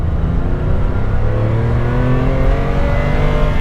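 A Ferrari 456 GT accelerating hard in second gear on tight, twisty roads, the engine note loud and close and climbing steadily in pitch as the revs build, with no voices.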